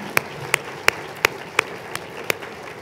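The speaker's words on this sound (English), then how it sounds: "So let's have a round of applause for all those folks." A few scattered, separate hand claps ring out at a medical school Match Day gathering in honor of the families and friends, spaced sharp slaps over a quiet room murmur rather than a full burst.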